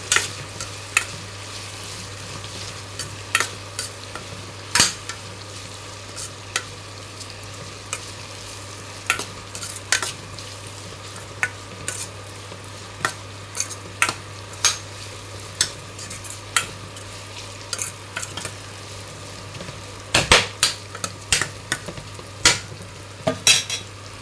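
Food frying in a pan with red chilli powder, constant sizzle punctuated by repeated scraping clicks of a utensil stirring at an irregular pace, close up, no talking.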